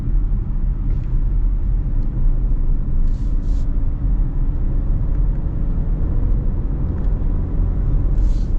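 Steady low road rumble and engine drone from inside a 2025 Subaru Outback Limited with a CVT while driving, continuous and moderately loud with a few faint higher clicks and hisses over it.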